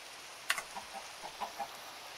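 Chickens clucking nearby in light rain, a handful of soft, separate clucks spaced across a quiet background, one slightly sharper call near the start.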